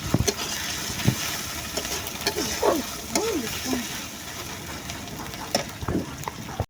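Ginger and garlic sizzle in a hot pan, with occasional scraping and stirring clinks and a brief murmur of voices.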